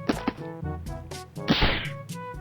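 A ruler struck against the boss in the Whack Your Boss game, landing as a few sharp thwacks and dull thunks in quick succession, loud and close, with music-like tones ringing underneath.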